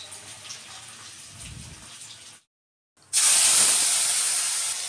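Starch water is poured off a pot of cooked rice, a steady hissing gush that starts loud after a brief pause, with quieter kitchen sounds and soft splashing before it.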